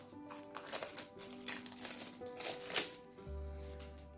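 Scissors cut open the plastic packaging of a Gypsy Witch fortune-telling card deck, with quiet, close crinkling and snipping in irregular bursts, then a low steady hum near the end.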